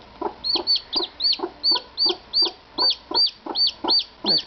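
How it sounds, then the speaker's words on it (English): A bantam chick gives a steady series of about fourteen high, rising peeps in an even rhythm, close and fairly loud, with soft clucking from other bantam chicks underneath. "That's Bryce calling"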